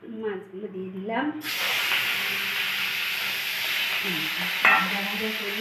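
Singi fish frying in hot oil with turmeric and salt, starting as a sudden loud, steady sizzle partway through that holds to the end, with a voice talking over the start and again near the close.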